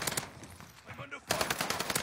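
Rapid bursts of gunfire from an online shooter video game rattle at the start and again in the second half, with a quieter gap between them.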